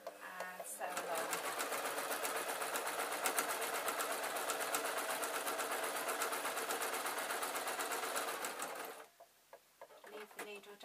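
A sewing machine runs a seam on a fabric storage box, a steady fast rattling stitch lasting most of the time before stopping abruptly near the end, with a few quiet handling sounds after.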